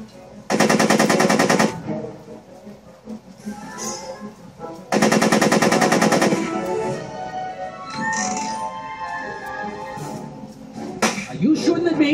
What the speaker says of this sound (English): Are you shooting at me?